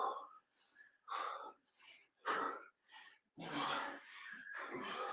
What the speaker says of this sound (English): Heavy breathing and grunting.